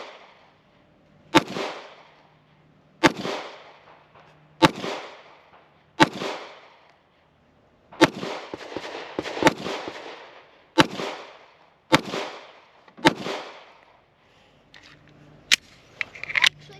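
Pistol shots ring out one by one at an outdoor shooting range, steel target at about 35 yards, roughly ten sharp loud cracks spaced a second or two apart, each trailing off in a short echo.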